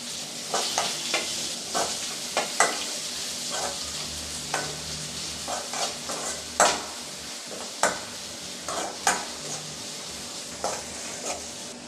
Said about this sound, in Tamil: ஒரு பெரிய சைஸ் வெங்காயம் இந்த மாதிரி ஸ்லைஸாக கட் பண்ணி வச்சுருக்கேன் அதையும் சேர்த்துக்கலாம் சேர்த்து கொஞ்சம் நல்லா வதக்கி விட்டுக்கலாம்